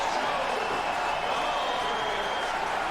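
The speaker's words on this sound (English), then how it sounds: "This crowd comes alive." Chicago football stadium crowd at a 2005 Ravens vs Bears game, a broad sustained roar of cheering filling the space, steady and loud throughout.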